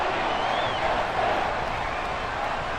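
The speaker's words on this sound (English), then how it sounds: "This crowd turning up the decibel level." Stadium crowd roar from a Madden NFL 24 playoff game between the Houston Texans and Baltimore Ravens, a dense, steady wash of cheering that fills the whole stretch at high level without a break.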